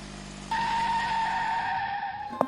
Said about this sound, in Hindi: तभी उसकी दुकान के सामने एक सफेद गाड़ी आकर रुकी।